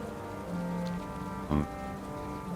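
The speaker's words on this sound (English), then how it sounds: "Look, rain's not stopping at all." Rain falling in the World of Warcraft game world, a steady hiss of moderate rain under a low tonal game soundtrack, with one brief louder burst midway.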